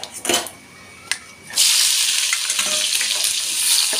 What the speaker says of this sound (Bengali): পেঁয়াজটা একটু ভেজে নিয়ে তারপরে পটল আলু দেবো